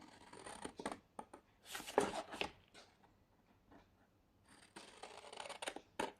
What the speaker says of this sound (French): On va venir couper à chaque intersection.